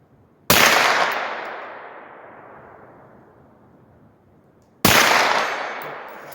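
Two loud rifle shots aimed at steel targets crack out seconds apart, each followed by a long fading echo rolling across an open range.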